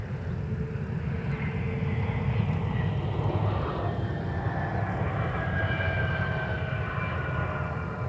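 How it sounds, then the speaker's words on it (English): An Embraer 175 LR airliner arriving at Minneapolis–Saint Paul airport, its continuous, moderately loud engine roar and shifting whine holding steady and fairly near throughout. "Here's an Embraer 175 LR coming in from St."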